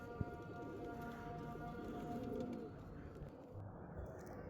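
Pigeons coo softly and continuously in a loft of high-flying and Madrasi breeds kept for sale, a low murmuring layer with a faint tonal hum and a few scattered clicks, no voices over it.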